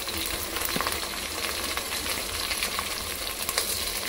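Chopped green chilli, ivy gourd, carrot and cucumber fry in a hot pan with a steady, close sizzle, broken by a few soft stirring clicks and scrapes throughout.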